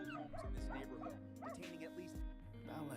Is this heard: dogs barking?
yes